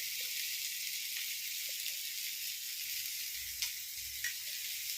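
Chili, coriander, fenugreek and turmeric powders sizzle steadily in hot oil for a Kerala-style prawn roast, a close, continuous hiss with a few small pops and stirring scrapes, and no voices.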